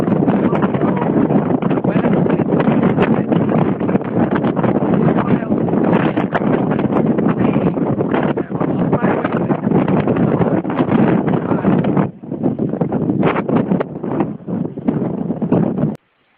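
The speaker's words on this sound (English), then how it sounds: "and it is crazy windy." Strong wind batters the microphone at Mission Beach, a loud, continuous broadband roar with gusting surges and no break for sixteen seconds, dipping briefly near the end before cutting off.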